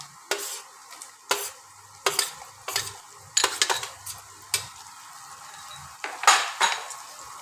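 Chopped green chillies and capsicum sautéing in a pan for cabbage manchurian, with repeated sharp clanks and scrapes of a metal spatula against the pan over a faint sizzle, close and loud, no voices.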